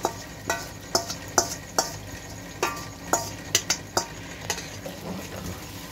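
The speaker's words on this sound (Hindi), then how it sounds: "इसको मैं थोड़ा सा इसमें भूनूंगी" Chicken is stirred in a karahi with a utensil. It makes about a dozen sharp scraping clinks at an irregular rhythm over a faint, steady sizzle of frying, fairly quiet and close, with no voices.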